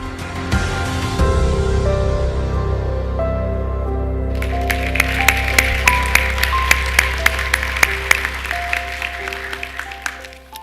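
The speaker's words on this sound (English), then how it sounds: "That applause is for the school districts that participated." At a Merced County education report event, sustained tonal music plays alone at first, then sharp scattered hand claps from the audience join in around midway and continue over the music for school districts.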